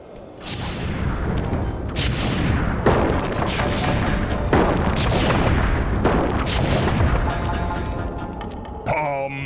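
Repeated booming firework blasts from the Flame Fool attack in Sly 3 burst loudly one after another, each with a rushing whoosh, forming a dense continuous barrage that ends in a brief ringing crackle.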